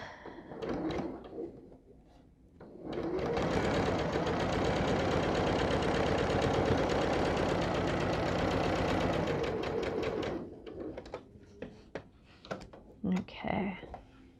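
Sewing machine running steadily for about seven seconds as it stitches a seam on an Ohio Star quilt block, a dense continuous whir framed by quiet handling sounds and brief speech before and after.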